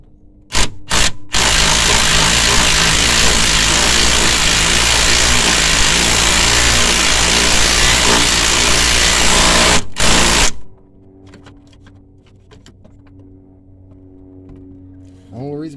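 Ratchet driven through a wobble joint at an awkward angle while installing the alternator on a 2018 BMW X5 twin turbo, giving a loud, steady mechanical buzz for about nine seconds before cutting off into a quiet garage.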